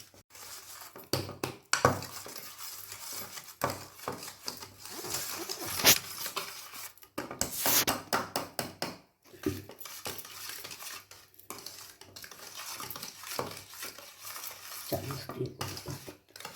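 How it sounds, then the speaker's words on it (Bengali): Butter and sugar are beaten in a bowl for a malai cake, a busy run of rapid scraping, clinking strokes of a utensil against the bowl that continues with brief pauses throughout. "এই মাখন আর চিনিটা বিট করতে হবে যতক্ষণ না একদম ফ্লাফি হবে"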